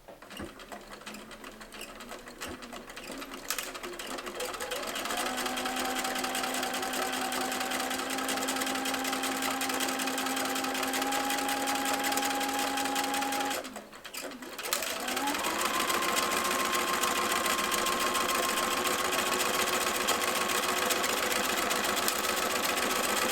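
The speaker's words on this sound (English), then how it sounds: "you're sewing side gusset to bottom gusset and then up the top" Sewing machine running steady stitches along a tote bag's side and bottom gusset, a constant close motor whir with one short pause before it speeds back up, with no talk.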